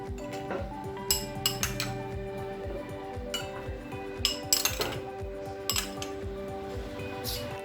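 Ice cubes and small watermelon pieces drop into a glass one after another, giving a run of bright, close clinks and clatters with short ringing tones, with no talking.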